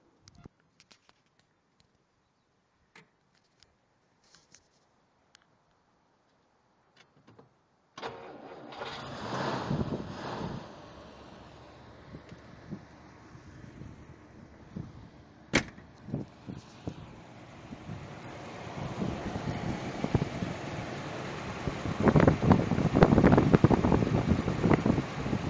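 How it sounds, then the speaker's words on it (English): Engine of a 1955 Plymouth Belvedere cranks after a few quiet clicks and catches, then settles into a smooth, steady idle that swells louder toward the end, heard close with no talk. "So we'll just start it up."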